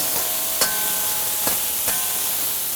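Turkey meat fries in a pan for a turkey and green beans stir fry, a steady soft sizzling hiss with three or four faint scraping clicks spaced through it, no voices.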